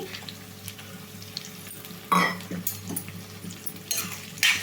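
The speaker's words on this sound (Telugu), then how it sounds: "ఉల్లిపాయతో పాటు కాకరకాయ ముక్కలు కూడా వేసుకోవాలండి అన్నీ ఈక్వల్గా వేగుతాయి" Onion and bitter gourd pieces frying together in a pan produce a close sizzle. Clattering stirring scrapes of a utensil against the pan come in bursts, and no one speaks.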